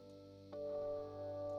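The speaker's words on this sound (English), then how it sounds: "Finally, we have this Swell Reverb" A Source Audio Encounter delay and reverb pedal set to its Swell Reverb, with a single guitar note that blooms in smoothly and sustains as a soft, washy tail, alone and fairly quiet.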